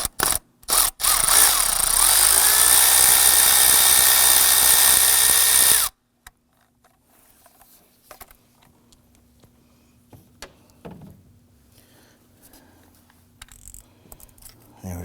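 A power ratchet or drill spins a deep socket with an extension to remove an 8mm nut from a stud on a 2015-2020 Ford F-150 2.7L V6, a loud steady whir for several seconds, then faint clicks and tool handling.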